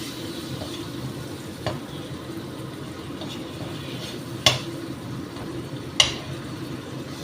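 Tomato wedges cooking slowly over low heat in a pan for a Bengali kohlrabi curry, giving a faint, steady sizzle with a few sharp clicks of a utensil against the pan.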